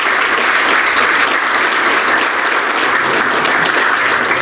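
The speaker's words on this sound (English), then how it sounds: "Let's give them a big round of applause." A big round of applause for college coaches at a university sports hall of fame luncheon, loud, dense clapping from a large crowd that holds steady and close throughout, with no speech over it.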